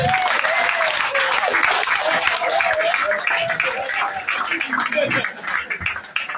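A church congregation bursts into sustained applause, dense close clapping that thins and grows uneven near the end, with voices rising through it.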